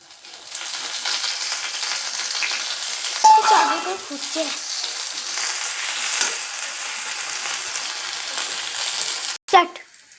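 Ground ginger, garlic and cardamom paste dropped into hot oil in a frying pan sizzles with a steady hiss, with a brief stirring clatter and a scrape near the end.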